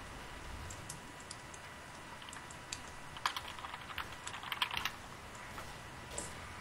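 Keyboard typing at a computer during a Killing Floor co-op session, a quiet run of clicky keystrokes that cluster into a busier burst in the middle and then trail off, heard alone with no talk.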